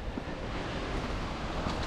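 The Hammersbach mountain stream rushes below a dense pine forest in the Höllentalklamm gorge in the Bavarian Alps, giving a constant, soft, broadband water roar heard from a distance with no voices.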